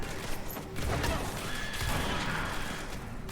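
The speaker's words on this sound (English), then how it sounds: "Distant explosion." Low, rumbling blast from a distant explosion in the video game Control, a dull sustained boom filling the clip at moderate volume with no voices.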